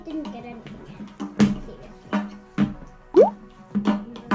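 Homemade slime being stirred, giving repeated wet plops and squelches in an uneven rhythm, close and fairly loud, with a brief squeak among them.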